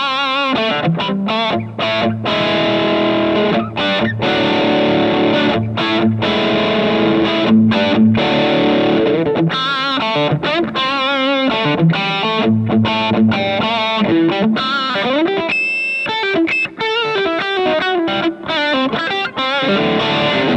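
An electric guitar is played through a 57 Deluxe Reverb amp impulse response. Loud distorted chords and riffs ring out with brief pauses between phrases, dense and close, with no talking.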